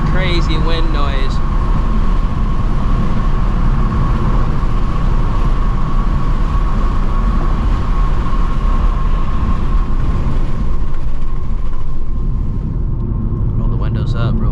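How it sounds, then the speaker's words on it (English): Loud, steady roar of wind and road noise inside a 2024 Mustang GT S650 at speed with the windows down, a dense rushing rumble that holds for the whole stretch. "I apologize for the wind noise if it's getting kind of nuts."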